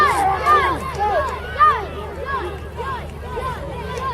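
A crowd watches a medieval sword fighting show at Arbroath Abbey, with overlapping voices, shouts and lively babble rising and falling throughout.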